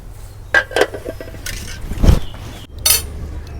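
Metal clanks and clinks as a lid is set on a cooking pot holding turmeric- and garam masala-coated broiler chicken in mustard oil: a few sharp knocks and one heavier clatter, close and alone.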